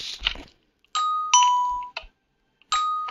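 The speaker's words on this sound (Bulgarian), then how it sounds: "Иначе този звънец е много готин" A doorbell built in the video game Minecraft rings in bright, clear electronic chime tones, sounding in separate bursts with short ringing decays, preceded by a brief click and rustle, with no talking.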